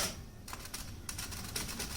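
Repeated mouse button clicks at a computer, a quick run of sharp close taps in uneven bursts, alone without voices.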